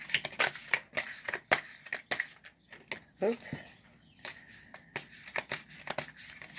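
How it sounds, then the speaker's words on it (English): Oracle cards from a Flower of Life deck are riffled and shuffled in quick, crisp bursts of flicking, with a soft voice briefly speaking partway through. "Still getting used to shuffling this deck."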